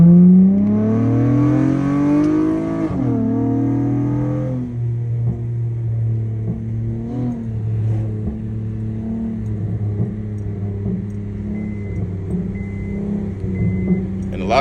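Car engine revving hard under acceleration, loud and close, its pitch rising through a gear, then settling into a steady droning rumble as the car cruises, heard alone.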